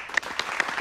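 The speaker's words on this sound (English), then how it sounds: "Let's give her a round of applause." An audience applauds at a campfire magic show, giving a short burst of scattered clapping that lasts under a second.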